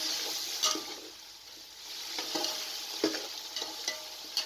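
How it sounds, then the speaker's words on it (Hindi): Masala, ground chilies, salt, potatoes and beef are stirred in a sizzling frying pot for beef pulao, with a steady hiss of frying and repeated scraping strokes of the spoon against the pot. "तमाम चीज़ों को अच्छे तरीके से मिक्स कर लें।"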